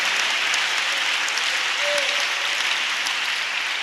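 A church congregation applauds for God during a sermon, a steady, even wash of clapping that holds throughout with no letup.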